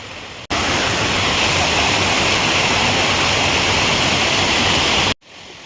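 A waterfall in the Sahyadri mountains of Maval roars as a loud, steady broadband rush of falling water, close and continuous with no voices, and cuts off abruptly at the end.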